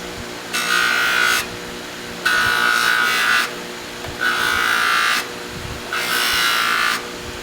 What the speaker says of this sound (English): we're just sort of cutting back against the direction of the wheel